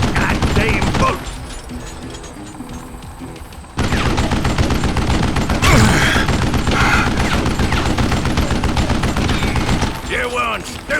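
Rapid bursts of gunfire from the Western shooter Call of Juarez: Gunslinger, loud and dense, with a quieter gap before the shooting resumes and a voice talking over the action.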